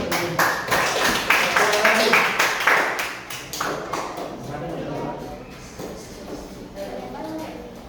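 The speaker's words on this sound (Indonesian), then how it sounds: "beri dulu tepuk tangan" A classroom of students claps together in a brief burst of applause that tapers off, with a teacher's voice heard around it.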